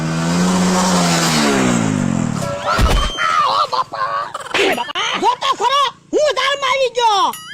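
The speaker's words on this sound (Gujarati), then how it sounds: "એક જગ્યાએ ગાડી ઊભી ઊભી ગાસતી હોય એવો અવાજ આવે" A car engine revs hard while standing in place, loud and close, for the first three seconds, with harmonic engine tones rising and falling before people start talking over it.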